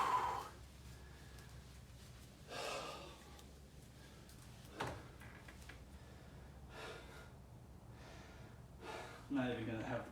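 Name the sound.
heavy gasping breaths after an exercise set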